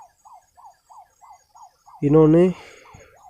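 A siren-like horn set up on a farm to scare off wild pigs gives a string of quick rising-and-falling electronic whoops in a steady rhythm. Someone briefly speaks over it partway through.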